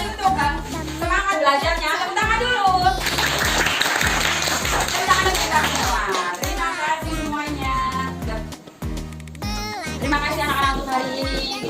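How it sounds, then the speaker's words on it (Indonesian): Schoolchildren in an Indonesian classroom clap their hands together in a sustained burst of applause, with children's voices and a teacher talking over and between the claps. "Tepuk tangan untuk kita semua."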